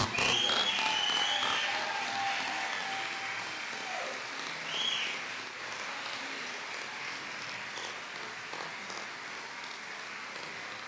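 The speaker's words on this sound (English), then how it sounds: "Let's give them a round of applause." Audience applause at an eighth-grade recognition ceremony for the class, a sustained, fairly faint, distant wash of clapping with a few whistles near the start, tapering gradually.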